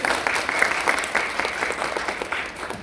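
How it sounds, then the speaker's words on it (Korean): Audience applause at a musical performance, a brisk continuous clapping from many hands, moderately quiet and evenly sustained for about three seconds. "박수 한번 주십시오."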